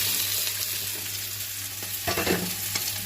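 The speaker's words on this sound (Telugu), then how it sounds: "ఆనియన్స్ వేస్తున్నాను." Three large sliced onions frying in hot oil in a pan, a steady close sizzle with a low hum beneath and a few stirring scrapes and clinks toward the end.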